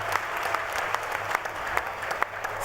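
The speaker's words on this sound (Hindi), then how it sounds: "मैं निवेदन करूंगा जोरदार ताली आप सबकी तरफ से बजनी चाहिए" Festival crowd applauding steadily at a religious mahotsav gathering, a dense continuous wash of many hands clapping at moderate distance, no voices standing out.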